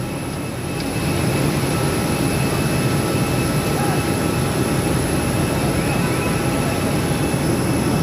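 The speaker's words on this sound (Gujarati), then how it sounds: "અહીંયા બીજું વિમાન લાગી ગયું છે." An airliner at an airport produces a steady, loud broadband engine roar that swells after the first second and then holds constant throughout, with no speech over it.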